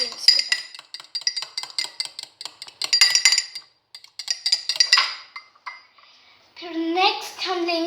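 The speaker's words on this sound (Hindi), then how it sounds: "अब हम इनको अच्छी तरह मिक्स करेंगे वेट इंग्रेडिएंट्स के साथ।" Spoon stirring milk with wet ingredients in a bowl, rapid clinking and scraping strokes against the dish in uneven bursts, close and fairly loud, followed by a short stretch of voice at the end.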